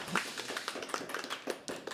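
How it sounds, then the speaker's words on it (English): A poetry open mic audience at The Habitat claps for a performer, with scattered hand claps at a fairly faint level and no talking. "Can you give a round of applause to him?"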